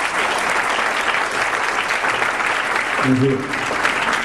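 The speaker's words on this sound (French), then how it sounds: "Applaudissez-le, merci." Dense, steady applause from an audience greeting a guest at a film screening, loud and continuous, with a brief spoken greeting over the clapping near the end.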